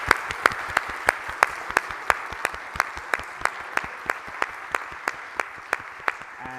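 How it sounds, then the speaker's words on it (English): An audience at the TAIS 2024 conference applauds paper authors, steady crowd clapping with a few sharp, regularly spaced claps standing out close to the microphone. "we can give you a round of applause"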